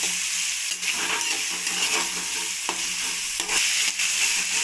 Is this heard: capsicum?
yes